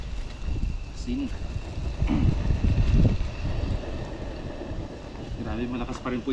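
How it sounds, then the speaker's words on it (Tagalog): Strong wind roars and buffets the microphone at an outdoor cooking spot where tilapia and jaguar fish are being salted over a gas flame, a steady low rumble with gusts that swell near the middle. "malakas pa rin po yung hangin"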